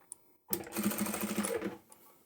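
A sewing machine stitches and backstitches at the end of a seam on a lined drawstring pouch, a steady close run of needle clatter of under two seconds after a brief pause.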